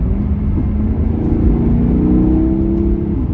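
A 2010 Maserati GranTurismo 4.7 V8 engine rumbles and revs steadily, deep and loud throughout, with a throaty exhaust roar close by.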